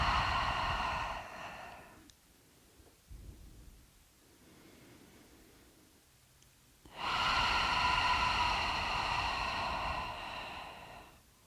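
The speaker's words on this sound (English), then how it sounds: "Taking a deep inhale. Open the mouth, exhale it out." Two long, loud breaths through an open mouth close to the microphone at the end of a yoga session, a deep airy exhale, a quiet pause, then a second full breath out.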